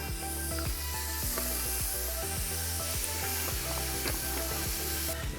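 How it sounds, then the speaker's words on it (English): Satay skewers sizzling on a preheated barbecue grill, a dense continuous crackling hiss with steady low hum underneath, no voices. "I'm going to pop them straight on the barbie."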